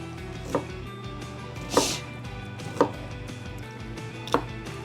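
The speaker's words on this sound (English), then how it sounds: "now we're gonna core our apples. I'm gonna use a melon core" Apples are cored with a melon corer, giving four separate dull knocks and scrapes spaced about a second apart over a low steady background hum.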